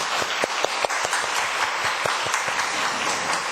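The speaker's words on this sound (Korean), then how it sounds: "우리 스승이신 우리 권사님들께 다시 한번 박수했으면 좋겠습니다" A church congregation applauds its elder deaconesses, a sustained wash of many hands with distinct sharp nearby claps standing out at an uneven rhythm throughout.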